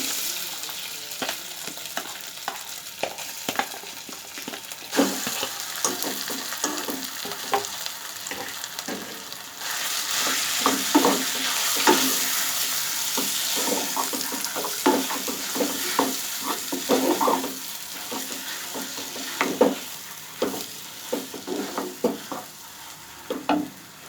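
Mashed potato frying and being stirred in a pan, a steady broadband sizzle with scraping stir strokes, growing louder partway through, no talking.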